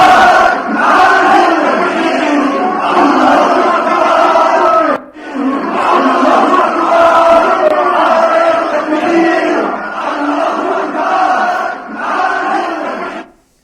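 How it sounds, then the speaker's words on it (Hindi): A large crowd in Bangladesh chanting slogans in support of Hadi, loud massed voices roaring in rhythmic bursts with a short break midway, sustained and dense throughout. "जितनी संख्या में भीड़ है उतनी ही ज्यादा आवाज वहां से निकल रही है और लोग नारेबाजी कर रहे हैं हादी के समर्थन में"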